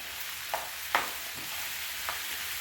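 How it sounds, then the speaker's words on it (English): Meat and potatoes fry in oil for a Mexican beef guisado, a soft, steady sizzle broken by a few light scrapes of stirring, with no talking. "meat and potatoes to fry here,"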